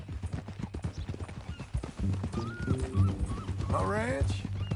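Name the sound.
horse hooves clip-clopping in video game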